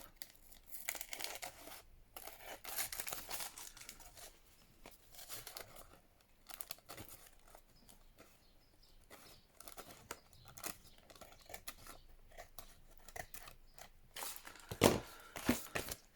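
Paper being trimmed by hand for a Tim Holtz flip flop journal, with close, irregular crinkling, rustling and tearing-like snips that come and go, and a sharper burst of handling near the end.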